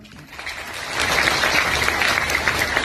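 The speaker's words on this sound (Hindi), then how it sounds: "तो एक बार इनके लिए जोरदार तालियां" Applause from a satsang audience, starting lighter and swelling into steady, dense clapping that stays loud to the end, with a faint voice underneath.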